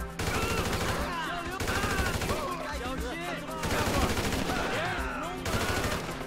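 AK assault rifle fire in GTA V comes in dense, loud automatic bursts separated by brief gaps, with a voice talking over the shooting.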